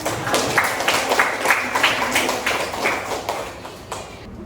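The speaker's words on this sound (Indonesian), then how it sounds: "boleh kita berkasih tepuk tangan ya" An audience in a classroom claps in a loose run of sharp, fairly even hand claps at moderate volume, fading out toward the end.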